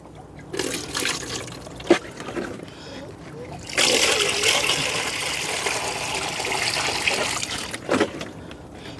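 Dog's drinking water poured out, a splashing gush of liquid that swells midway and runs for several seconds, with faint talk and a couple of knocks around it.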